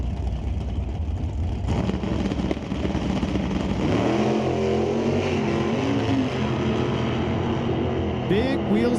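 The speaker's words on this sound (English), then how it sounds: "Big wheels up launch for those two Camaros" Two Camaros launching at an NHRA Canadian Sportsnationals drag race: engines roar and climb in pitch over crowd noise while an announcer talks throughout.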